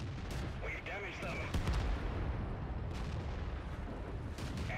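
Tank cannons fire in the online game World of Tanks, a few heavy shots and booms over engine rumble, with a voice talking over the action.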